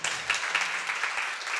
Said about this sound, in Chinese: 大家先掌声鼓励哦